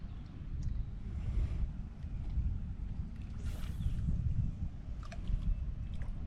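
A southern wind gusting across a lake during a fishing outing, heard as a continuous low roar and buffeting against the microphone, steady throughout with faint splashes and light knocks.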